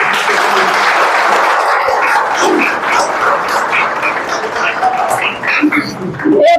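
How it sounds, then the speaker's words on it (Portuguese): Audience applause fills a Spiritist talk hall at Casa Espírita, a dense steady clatter of many hands running throughout, with a voice rising over it toward the end. "Palmas para a vida."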